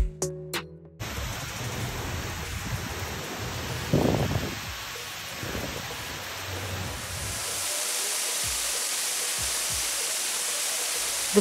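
Steady rushing water from the waterfalls in the Mirage hotel's tropical rainforest atrium, a broad continuous hiss with a few brief thuds and bumps partway through, holding constant to the end.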